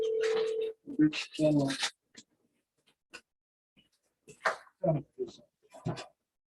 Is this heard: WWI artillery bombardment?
no